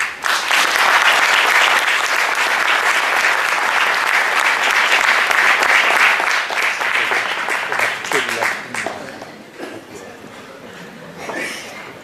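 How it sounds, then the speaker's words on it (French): A tournament audience breaks into loud, sustained applause that fills the hall for several seconds, then thins out into scattered claps and fades near the end. "Je vous demande d'applaudir très très fort Kamela Selfie."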